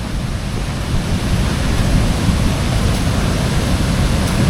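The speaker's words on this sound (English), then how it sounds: "And that's some mighty rushing water." Mighty rushing water below a dam on the C&O Canal, a steady broadband roar of churning flow, loud and constant with no breaks, heard alone.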